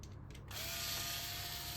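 Power drill with a bit spinning up after a short pause, then a steady whining buzz as it runs continuously during woodworking on a rocking chair, quiet and close.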